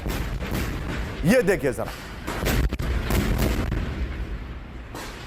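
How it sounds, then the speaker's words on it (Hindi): An explosion follows an Israeli strike on Hamas positions and tunnels, shown in news footage. Loud booms and rumbling bursts come through while a news presenter talks over them. "इजरायली हमले के बाद बड़ा विस्फोट विद द वीडियो"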